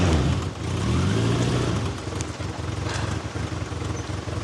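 An engine runs rough, a loud, uneven low rumble up close. It shifts into an irregular, stuttering chug with knocking pulses and no talk over it.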